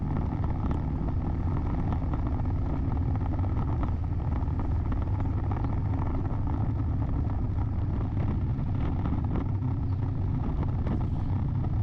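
Steady road noise from a car driving along a cracked circumferential road toward a plaza in Oton on a Saturday morning, a continuous close engine and tyre rumble with no talk.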